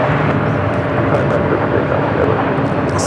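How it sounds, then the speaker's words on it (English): An Airbus A220-300 airliner at Phoenix Sky Harbor airport gives a steady, loud jet engine roar with broadband rumble, partly mixed with a voice talking over it. "Airbus A220-300, possibly number 3 for takeoff"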